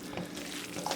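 Water running from a kitchen tap for washing hands, a soft, steady splashing stream heard close by for about a second.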